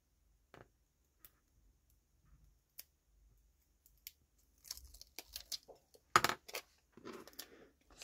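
Scissors cutting through paper or craft material at close range, a few sparse snips and crisp rustling clicks growing busier toward the end, with no talking.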